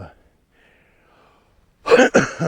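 A person recovering from a cold coughs sharply twice at the end after a near-silent pause, the harsh bursts close and loud.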